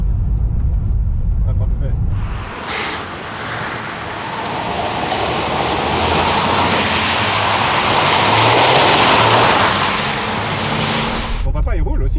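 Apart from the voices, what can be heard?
car driving on icy road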